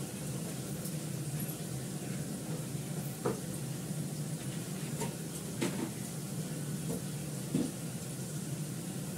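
Potato pieces fry in a pan with a steady, close hiss of sizzling oil, broken by a few faint clicks and small pops. No one speaks over it.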